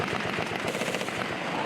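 Gunfire from a Philippine and Australian Army Balikatan military exercise on a coastline in Pasacao, Camarines Sur: rapid, continuous bursts of shots and blasts, loud and unbroken, with no talk.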